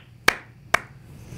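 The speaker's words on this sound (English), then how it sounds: "like clapping" Two sharp hand claps about half a second apart, close and fairly quiet, each a crisp broadband snap with a short decay over a faint room hum; no voices.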